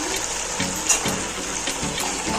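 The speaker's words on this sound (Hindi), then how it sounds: "अब यहाँ पे मैं डाल दूँगी इसमें जो का दलिया जो मैंने अच्छे से पानी में भिगो कर रखा था" Soaked barley porridge (jau ka daliya) tipped into a cooking pot for a chicken dish, giving a close, steady wet slosh and pour of watery grain with a few soft splashes and no talk.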